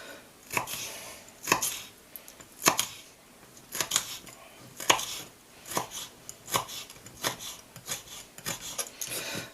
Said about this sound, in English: So we'll just chop the chillies up. one medium chilli. We'll chop that up a bit more actually.